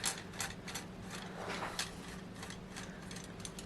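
Screws being loosened on a Brother embroidery machine cap hoop: quiet, repeated clicking and ratcheting taps in a steady rhythm, close up, with no talking.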